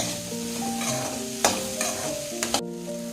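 Okra pieces frying in a pan, a steady close sizzle with a few sharper scraping knocks from stirring and a low hum underneath, no voices.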